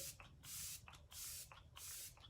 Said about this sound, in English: I always finish with setting spray. This is the Let It Set refinishing spray.